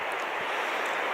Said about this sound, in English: We've got a nice river below us where we filled up water last night